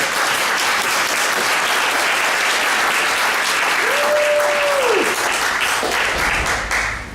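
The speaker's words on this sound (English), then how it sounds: "Let's give her that round of applause" Audience at a California Hotel community event applauds Miss Grace Ford being brought up, loud dense sustained clapping with a brief whistle or cheer midway, tapering off at the end.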